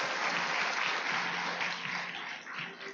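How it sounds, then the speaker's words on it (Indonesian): A live audience at an Indonesian network-marketing gathering claps steadily for a full three seconds, a dense, even wash of applause that stays loud throughout with only slight swells and dips. "Beri aplaus yang sangat luar biasa buat beliau."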